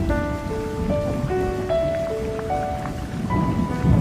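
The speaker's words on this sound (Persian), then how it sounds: "It's rain." Steady rain hiss runs beneath a sustained melodic instrument line, continuous for about four seconds with no voices.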